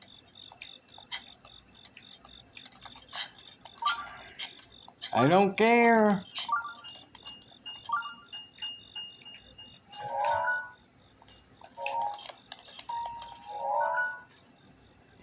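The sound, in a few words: beeping in the video game Zelda Breath of the Wild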